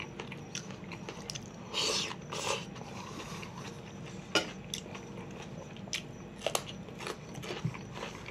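Olives with salmon bitten and chewed close to the mic, with moist crunching bites and irregular smacking chews, quiet background between them.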